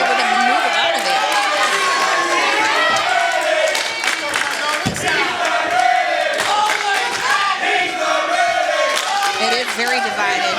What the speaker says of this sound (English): the crowd singing, "You're not ready."